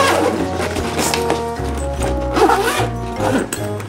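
A zipper on the outer pocket of a bag being pulled in several quick rasping strokes, close and loud, with brief pauses between runs.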